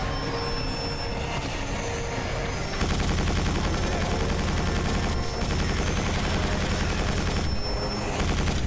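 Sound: gunfire in the video game Quake 4

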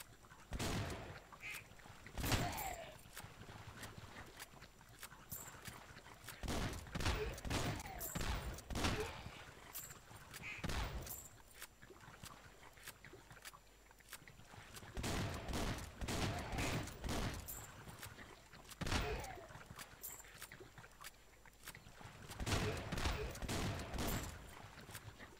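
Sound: gunfire from the video game Swamp Attack

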